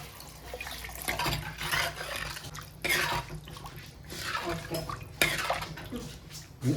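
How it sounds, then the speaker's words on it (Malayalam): Water goes into a cooking pot with tamarind in it, giving splashy, gurgling bursts in several separate pours. Clinks of metal pots and a few drips come between the pours. "ആവശ്യമുള്ള വെള്ളം ഒഴിച്ച് കൊടുക്കുക"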